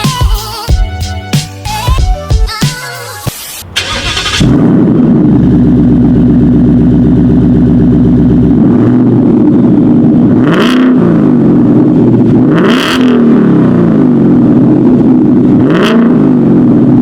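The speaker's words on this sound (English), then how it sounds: "I'll let you guys hear the exhaust clip in a little bit here." A 2019 Ford Mustang GT with an AWE touring cat-back exhaust, loud and close: a burst of music gives way to a steady deep V8 idle rumble, with several sharp throttle revs rising and falling toward the end.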